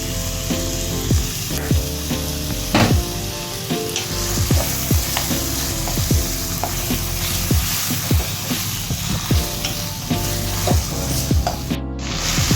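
Tomatoes sauté in a pan, sizzling loudly and steadily while a utensil stirs and scrapes at a regular pace throughout.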